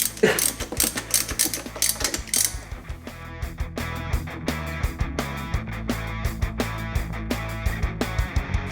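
A ratchet wrench tightens a bracket on the engine of a 1992 Mitsubishi Galant VR-4. It clicks in rapid bursts at first, then settles into a steady run of evenly spaced clicks, close and clear, with no voices.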